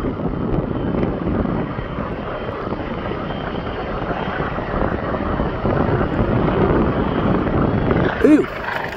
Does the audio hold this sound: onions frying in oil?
no